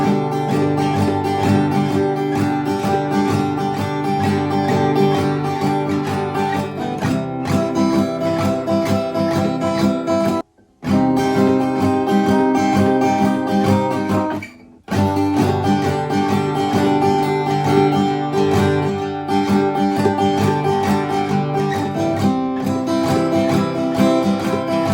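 Guitar strumming the verse chords of a song in a steady down-up pattern. The full, dense chords ring on continuously with two brief breaks, and no one talks over them.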